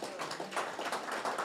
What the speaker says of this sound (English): we still have to give Miss Wisdom another round of applause